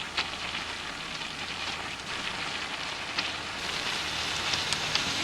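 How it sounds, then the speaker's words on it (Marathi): Puris, a masala puri dough, frying in hot oil: a steady close sizzle with scattered crackling pops and no voices. "आता दुसरी पुरी तळून काढायची."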